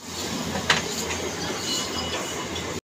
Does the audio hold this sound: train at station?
yes